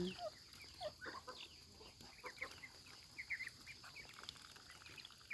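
Ducks and chickens on a rice farm in Laos cluck and quack softly at a distance, scattered calls over quiet outdoor background.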